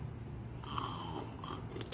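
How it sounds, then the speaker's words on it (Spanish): A child sitting upright makes soft, rough snoring breaths, a couple of low rasping snorts within two seconds, faint and close with a hushed indoor background and no talking. "¿Estás roncando sentado, hijo?"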